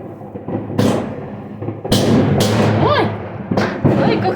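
New Year's Eve fireworks and firecrackers going off in the street, several sharp loud bangs and thumps in quick irregular succession with crackling tails, at moderate distance under a busy outdoor background.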